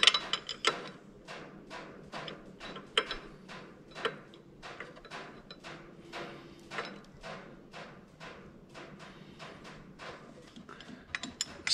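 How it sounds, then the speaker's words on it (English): A jack screw is turned into a bolt on the cam sprocket of a 1.9 ALH VW TDI diesel engine, giving a steady run of quiet, close ratcheting clicks with no talking. "And then we can turn the jack screw into the bolt."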